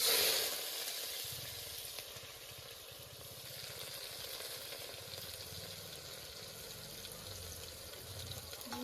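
Onion fries in a pan with cumin, giving a soft, steady sizzle with a low rumbling undertone. It is quiet and sustained, and a brief louder burst comes at the start. No one speaks.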